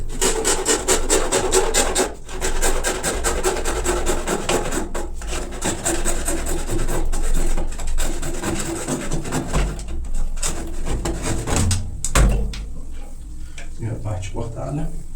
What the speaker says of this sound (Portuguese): eu tô tendo esse cuidado de segurar a serra assim, para ela não escapar